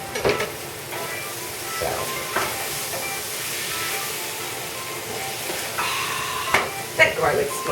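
Minced garlic sizzles in a frying pan of vegetables for Italian spaghetti, a steady, even hiss with occasional stirring clatter and a short word spoken over it.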